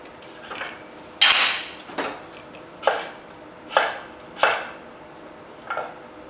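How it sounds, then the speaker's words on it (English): A knife chops butternut squash into chunks on a board, about six sharp separate thuds at uneven intervals, close and clear with no talking. "just chopping that last bit into nice chunks."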